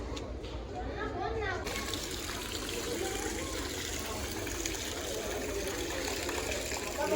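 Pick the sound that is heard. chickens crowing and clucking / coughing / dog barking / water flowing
water flowing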